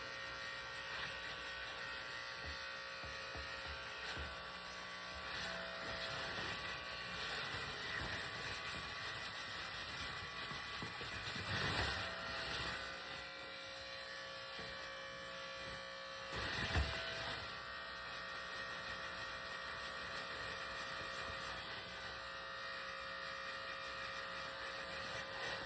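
Electric hair clippers buzz steadily while someone cuts their own hair at a short guard setting, a close continuous whine with a couple of brief louder passes.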